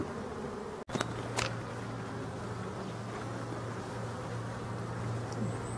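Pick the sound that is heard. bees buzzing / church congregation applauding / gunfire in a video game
bees buzzing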